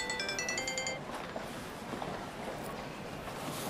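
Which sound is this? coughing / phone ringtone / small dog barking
phone ringtone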